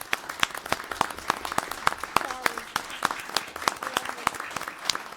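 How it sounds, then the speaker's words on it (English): Attendees at a town council meeting clap for the director, a steady round of individual handclaps from a modest group in a hall, sharp and fairly close, with a voice briefly heard among them. "if everybody could just share a round of applause for our wonderful director"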